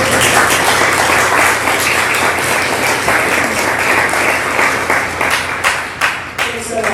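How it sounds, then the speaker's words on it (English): A conference audience at a B2B content marketing talk breaks into loud, sustained applause, dense clapping filling the room before it thins into scattered claps at the end. "So definitely an applause"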